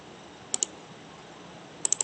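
Computer mouse clicks in a quiet room, a sharp pair of clicks followed by a quick triple, crisp and close against faint background hiss.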